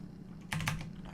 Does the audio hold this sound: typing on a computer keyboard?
yes